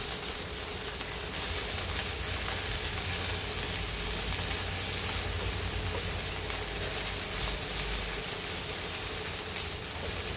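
Drumstick leaf (moringa) thoran stir-fried and mixed in a pan, giving a steady, continuous sizzle with a soft, rain-like hiss throughout and no talking.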